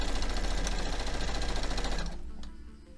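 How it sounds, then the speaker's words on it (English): A sewing machine stitches a quilt block, a fast steady needle rattle close by that runs for about two seconds, then slows and stops, leaving quiet motor hum. "And sew the other side."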